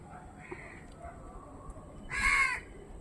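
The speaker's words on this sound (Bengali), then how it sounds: "দেখ কাকগুলো কি কাকা করে ডাকছে খাবে বলে," Crows calling for food on a rooftop, with one loud, harsh caw burst near the end over a steady background hiss.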